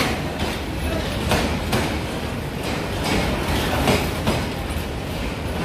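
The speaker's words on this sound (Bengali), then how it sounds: "শ্রীমঙ্গল রেল স্টেশন মাত্র কিছুক্ষণ আগে একটা ট্রেন আসছিল, আর এটা এখন ছেড়ে চলে যাচ্ছে।" A train pulls out of Sreemangal railway station, a loud, steady rumble of wheels with rhythmic clicks and clacks from passing carriages, heard up close and continuously with no talking.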